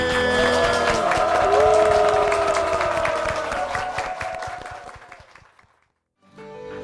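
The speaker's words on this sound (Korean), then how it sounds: "주님께 영광의 박수를 드리겠습니다" Church congregation applauding together in a worship service, loud dense clapping with a few cheers that holds steady, then thins and fades to silence before a faint sound returns at the end.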